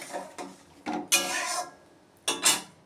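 A cooking pot lid is lifted off with a few short metallic clinks and rattles, set apart by brief pauses and ending in a final clatter.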